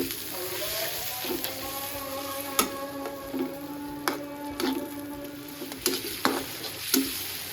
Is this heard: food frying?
yes